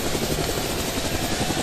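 Helicopter in the GameGuru Max video game, a steady close rotor whir with rhythmic chopping under a constant engine drone, heard alone.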